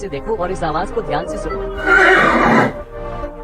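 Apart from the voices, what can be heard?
horse neighing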